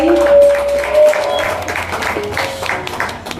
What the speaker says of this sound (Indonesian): boleh berikan tepuk tangan sekali lagi